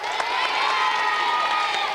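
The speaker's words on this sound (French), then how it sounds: "On peut l'applaudir." Children in a French television studio audience clap and cheer all at once, a dense, steady roar of applause and excited shouting that fills the room without a break.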